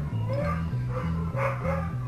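Dogs in the survival game Last Craft Survival give repeated short, yipping barks in a quick, regular pattern, close and fairly loud with no talk.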